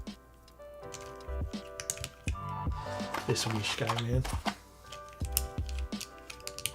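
Keys pressed on a Finn mechanical keyboard with a polycarbonate bottom, a run of sharp, close clacks in uneven bursts while someone talks over them.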